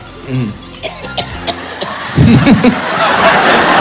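A few short coughs sound close by, mixed with brief vocal noises and a burst of louder voices near the end.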